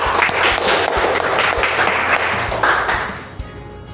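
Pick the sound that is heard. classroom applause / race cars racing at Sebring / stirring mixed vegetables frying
classroom applause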